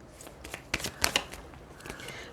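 Tarot cards shuffled and drawn during a weekly Pisces reading, a short run of crisp riffling flutters with a couple of sharper snaps near the middle, close and fairly quiet with no talking.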